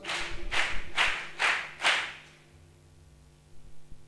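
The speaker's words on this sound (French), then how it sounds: "On acclame pour le Seigneur." A church congregation claps in praise to the Lord, five loud, evenly spaced group claps ringing out before fading to a quiet room.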